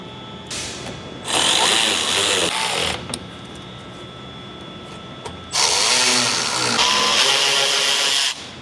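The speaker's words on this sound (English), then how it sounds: "We'll start reinstalling our screws." A power driver runs screws back into the fender flare cap of a 2020-plus GMC Sierra 2500/3500 pickup in two long, loud whirring bursts separated by a quieter pause.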